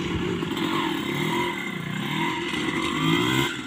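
Motocross motorcycle engines at a motocross event in Bohol, a close, loud, buzzing two-stroke-like drone whose pitch wavers up and down with throttle changes, steady for several seconds.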